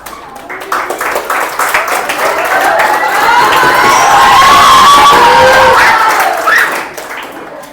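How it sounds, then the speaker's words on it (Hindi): A crowd of schoolchildren claps and cheers loudly in a coaching-class setting, building into a sustained roar of shouts and whoops that swells, then tapers off as voices call out. "clapping clapping, motivation clapping"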